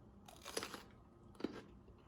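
Two crisp, separate crunches come from raw cucumber being bitten and chewed close up, each a short wet crack with faint quiet between.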